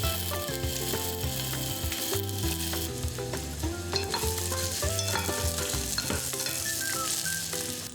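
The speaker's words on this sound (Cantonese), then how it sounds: "爆香薑同蒜" Ginger and garlic stir-fried in hot oil in a pan over medium heat, a steady sizzle running the full eight seconds beneath sustained tonal sounds, with no talking.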